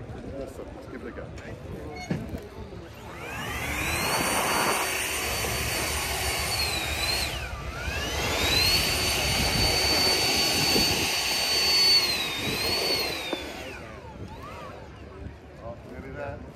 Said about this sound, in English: I have got to have a go at mini golf with a blower